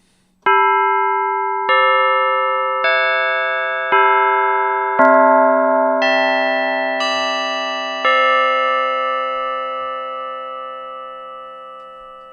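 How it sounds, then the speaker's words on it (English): A tubular tower bell plugin preset modelling very thick-walled bells: deep, heavy strikes ring out one after another, each with long sustained overtones, in a slow descending-then-rising sequence that decays gently at the end. "This one is the tubular tower bell, which has very thick walls."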